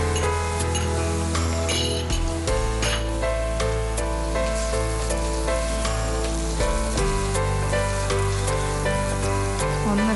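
Turmeric and Kashmiri chili powder fry in a hot pan with a steady, close sizzle that runs the whole time, partly under a loud musical backing.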